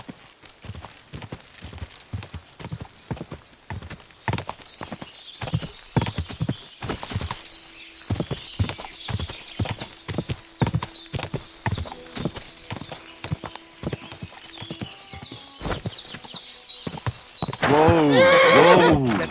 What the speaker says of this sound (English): That looks like a bloody expensive horse.